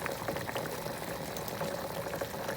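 Candle wax heating in a pot, about a pound of it melting, gives a steady close bubbling and sizzling that runs evenly throughout with no voices.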